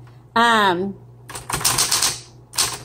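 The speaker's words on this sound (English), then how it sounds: "the keys are very sensitive, which is a good thing" A 1960s Smith Corona Coronet Electric 12 electric typewriter is struck in quick bursts of crisp key clatter after a short sliding whine, close and fairly loud.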